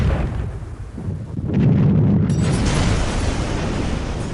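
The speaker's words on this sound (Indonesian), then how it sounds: "itu meriam utama tank" A tank's main cannon fires with a heavy deep boom that swells into a sustained, rumbling roar and lingers loudly, with no voices.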